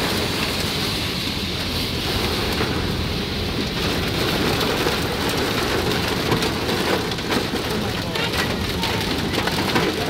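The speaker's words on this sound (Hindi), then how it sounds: "ओले पड़ रहे, ओले रोक लो।" Heavy rain and hail pour down in a steady, dense hiss with scattered sharp ticks of hailstones striking surfaces, loud and continuous with no pauses.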